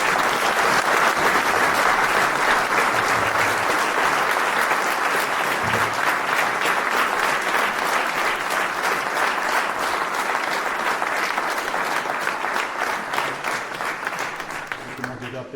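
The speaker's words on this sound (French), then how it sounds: "Donc je pense qu'on peut les applaudir bien fort." A hall audience at a French municipal New Year's greetings ceremony gives sustained, loud, dense applause during a medal presentation, steady for about fifteen seconds before beginning to thin out.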